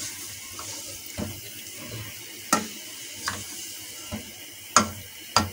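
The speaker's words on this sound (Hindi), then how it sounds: "और इतना पानी डालेंगे" Water runs and splashes into a cooking pot of spiced meat for nalli nihari, a soft continuous trickle broken by a few sharp clinks and knocks of the vessel, close and fairly quiet.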